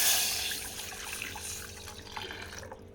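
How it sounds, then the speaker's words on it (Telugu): Half a litre of milk pours onto fried vermicelli in a pan for semiya payasam, a steady close liquid splash that gradually softens and thins out toward the end. "ఇప్పుడు నేను హాఫ్ లీటర్ పాలు వేసుకుంటున్నా దీంట్లో"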